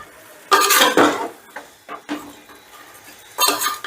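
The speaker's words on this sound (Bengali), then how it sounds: "এবারে সমস্ত মশলা দিয়ে চিকেনটাকে আমি আবারও প্রায় 7 থেকে 8 মিনিটের মতন কষে নেব" Chicken sautéed with spices in a pot, loud bursts of a metal spoon scraping and knocking the pot in uneven strokes over a faint sizzle, close up, no talking.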